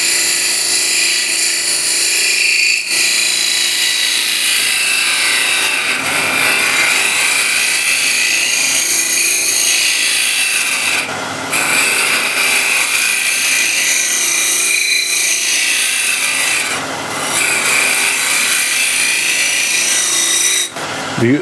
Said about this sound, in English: by tilting down the handle, dropping it down, I get a little bit more of a shear scrape